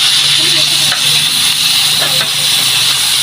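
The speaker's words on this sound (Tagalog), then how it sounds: "igisa na po ito natin ang bawang, sibuyas at kamatis" Garlic, onion and tomato sauté in hot oil in a pan, giving a loud, steady sizzle and hiss with faint clinks of stirring throughout.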